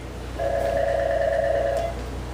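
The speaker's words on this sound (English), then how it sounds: "Second phone ring?" A telephone rings once with a steady electronic tone of about a second and a half over a low background hum.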